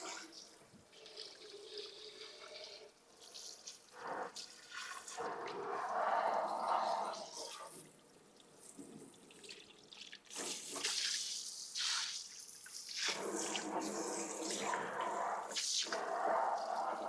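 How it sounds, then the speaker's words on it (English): Water is pumped and splashed out of a waterjet cutting table tank in uneven bursts of gushing and dripping, rising and falling over several seconds with short quieter gaps. "Pumping out some more water here."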